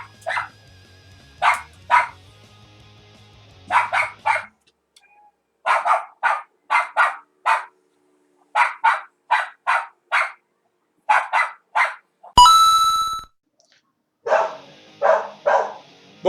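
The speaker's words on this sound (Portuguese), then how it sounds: "o cachorro não vai parar de latir" A dog barks repeatedly from a short distance, in quick bursts of two to four barks separated by pauses and one brief sharp noise partway through, with no talking over it.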